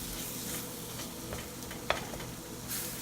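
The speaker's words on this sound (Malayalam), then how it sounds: "നമ്മൾ അടച്ചു വെച്ചിട്ട് നമുക്ക് തുറന്ന് നോക്കി ഒന്ന് ഇളക്കി കൊടുക്കാം." Tomatoes stirred in a pan of salmon fish curry after the lid is lifted: a quiet, close scraping and stirring over a soft sizzle, with one sharp utensil click partway through.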